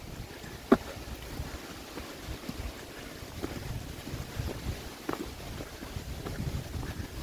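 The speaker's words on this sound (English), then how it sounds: "Hoping that this wind will die down." Wind blowing across a mountain top on the Appalachian Trail near McAfee Knob: a continuous soft roar with gusty buffeting on the microphone and one brief bump, fairly faint and with no voices.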